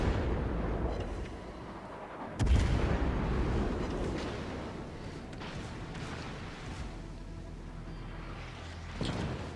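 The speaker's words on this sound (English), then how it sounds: "So, secondary batteries opening up on that Fuso now." Secondary batteries on a World of Warships Legends warship engaging an enemy Fuso, with one sharp booming shot and a few softer distant reports over a steady rumble of sea and engines.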